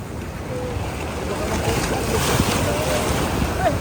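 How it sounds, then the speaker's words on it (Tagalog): Waves wash and slap steadily against a fishing boat amid constant wind noise, a continuous broad rush with no clear pauses. "Sampa sa alon."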